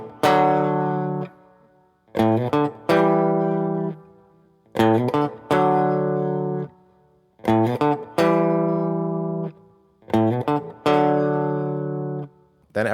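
Electric guitar plays a part, with warm ringing chords alternating with short muted strums and quick riff notes in a repeating pattern, clear and upfront with no talking.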